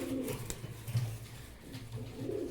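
Pigeons coo at a wholesale pigeon sale, with a few soft, low, rounded coos repeating close by against quiet background noise.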